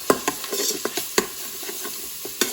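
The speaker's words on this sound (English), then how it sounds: "you can hear the garlic is sizzling" Garlic sizzles in hot oil in an Instant Pot close by, with sharp scraping taps of a utensil stirring at irregular intervals.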